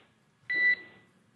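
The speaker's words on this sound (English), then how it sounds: "There is a chance that we get a lot of alarms." A single short electronic alarm beep from a SpaceX Dragon spacecraft after an ocean splashdown. It is clear and steady, lasts about a quarter second, and sits over a quiet background.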